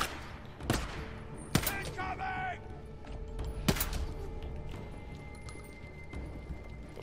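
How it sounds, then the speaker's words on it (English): A firefight in the video game Days Gone: several sharp gunshots crack out, at about 0.7, 1.6 and 3.7 seconds, over a steady low rumble of game ambience, with a brief tonal effect between them. "Got a little firefight going on here, haven't we?"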